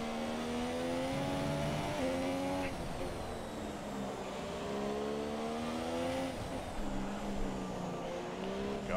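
A Formula 1 race car in the F1 2017 video game at the Spanish circuit: a continuous high engine whine rising and falling in pitch through shifts and braking into a chicane, loud and close.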